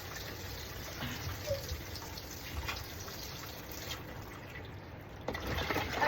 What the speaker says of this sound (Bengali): যেহেতু এটা কোরবানির মাংস তাই একটু বেশি ধুইতে হচ্ছে